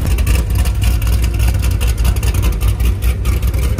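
Loud, close idle of a cammed Corvette Z06 C6 engine with a lumpy, choppy rhythm, deep uneven pulses rumbling continuously without pause.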